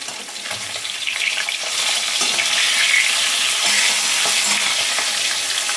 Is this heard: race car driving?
no